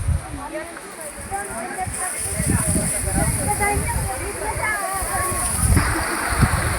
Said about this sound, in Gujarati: જો કેવું પાણી આવે